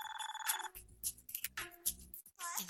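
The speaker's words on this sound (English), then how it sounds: "makes an anxious phone call to her mom" A telephone rings in a home as a worried call is placed, a couple of bright ringing bursts standing out over a quiet room with low rumbling thuds between them, no talk heard.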